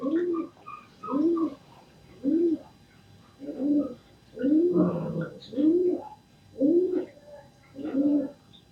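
Rhythmic cooing from a male pigeon or dove, about nine evenly spaced coos repeating close by, with a person speaking faintly in between.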